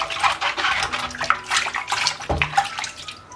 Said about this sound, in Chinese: 然后就这样子搓，把表皮搓干净，再冲水